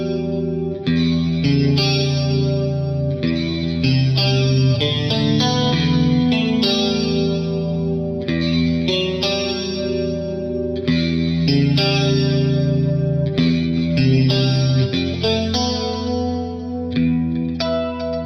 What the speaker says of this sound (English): let's add some chorus to this clean sound